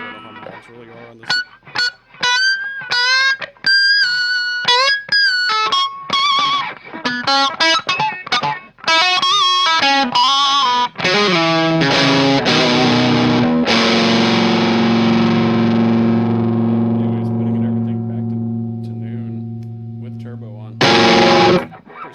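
Distorted electric guitar through a Mooer Black Secret distortion pedal with a bright tone setting, loud single notes and quick runs building to a long sustained chord that rings out, then a short final stab.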